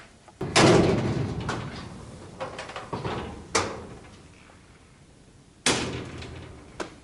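A Husky garage tool cabinet door swings and shuts with a loud close thump, followed by lighter knocks and a second firm shut, each ringing briefly in a quiet garage.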